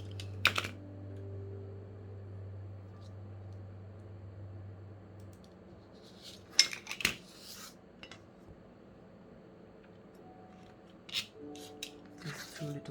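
Scissors snip through a flimsy cardboard box in a few short, sharp cuts separated by quiet pauses, close and crisp with faint handling rustles between.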